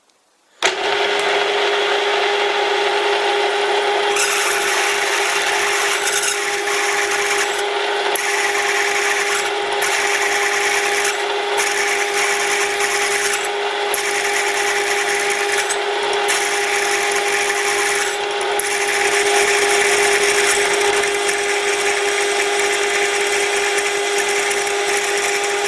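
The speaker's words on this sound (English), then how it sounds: "I think I will need to move to woody woodpecker drilling." Peck drilling on a metal lathe while making an internal turning tool holder, a loud steady whine and grinding rumble with regular brief interruptions as the drill retracts and re-enters, continuing for nearly half a minute.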